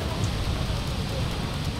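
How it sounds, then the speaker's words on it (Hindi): Heavy, steady rain during flooding in Kullu, Himachal Pradesh, a dense continuous hiss of downpour with a low rumble beneath, even and loud throughout with no voices. "सैलाब बहता हुआ लगातार और भारी बारिश के बाद हिमाचल के कुल्लू में।"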